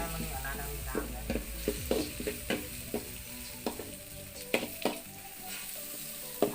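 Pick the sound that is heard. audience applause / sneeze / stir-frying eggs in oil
stir-frying eggs in oil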